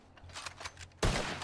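A gunshot in RedM, the Red Dead roleplay game set in 1920, bursts out loud and close after a low rumbling lead-in, with a dense ringing tail that fills the last half second.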